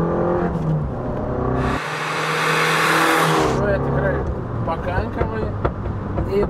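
An Abarth 500 hatchback's small engine hums and whirs while driving, with a louder rising rev in the middle and road noise throughout, under someone talking.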